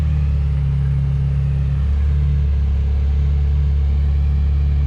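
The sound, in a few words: Ferrari F355 engine running at car meet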